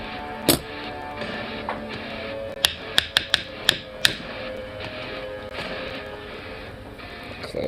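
Herb grinder handled and knocked against a hard surface, giving a sharp click early on, then a quick series of five or six hard taps and knocks, all fairly faint in a quiet room.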